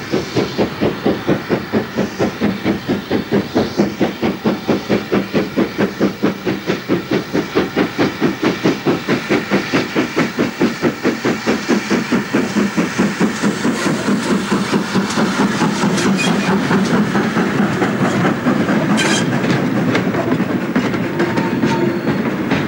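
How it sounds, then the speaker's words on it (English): A GWR Manor class steam locomotive, Foxcote Manor, works a freight train on the Llangollen Railway, its loud, rhythmic exhaust beats chuffing steadily and close by for the whole stretch, with hissing steam and rail clatter beneath. "the versatility of Great Western engines is seen on the Llandothrin Railway with Foxcote Manor on a freight"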